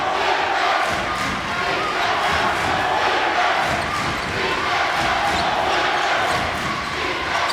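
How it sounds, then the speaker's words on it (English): Basketball crowd chanting "defense" at a Mount St. Mary's vs. Wagner NEC Tournament game, a loud, steady arena roar with rhythmic chanting and ball bounces throughout, commentators talking over it. "Listen to them chanting defense."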